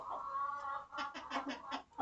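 Close, bright clucking from a large rooster: a steady call, a brief pause, then a run of short, rhythmic clucks.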